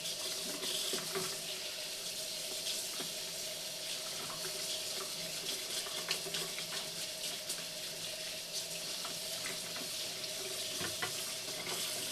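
Water from a kitchen tap runs steadily while hands are washed mid-cooking for chicken parmesan, a continuous close hiss with faint splashes and clinks, no talking.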